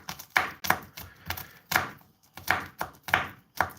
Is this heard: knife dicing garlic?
yes